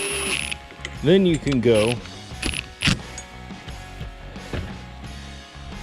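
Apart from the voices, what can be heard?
ratchet tightening bolts on Subaru power steering pump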